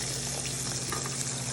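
Pork chops sizzle and crackle in a frying pan, a loud continuous hiss with small pops and no speech over it.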